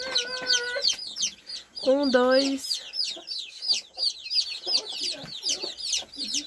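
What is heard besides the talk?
hen and chicks clucking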